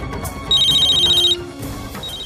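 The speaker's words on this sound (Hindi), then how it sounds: "पापा का फोन।" A telephone rings in two electronic trilling bursts, the first long and the second starting just as the clip ends, loud and close with no talking.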